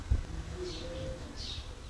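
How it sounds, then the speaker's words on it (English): Small birds calling around a holiday room: a couple of faint, brief chirps over a quiet, low room hum. "we do have a lot of birds around here"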